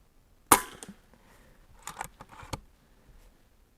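An FX Wildcat MK III GRiP air rifle fires a single sharp, close shot, followed by a few faint clicks and handling knocks in an otherwise quiet setting.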